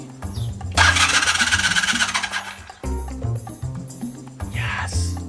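A Honda 400 cafe racer motorcycle is cranked by its starter with a loud whirring grind for about two seconds, then the engine catches and settles into a close, steady idle.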